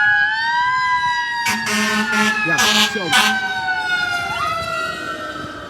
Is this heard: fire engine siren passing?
yes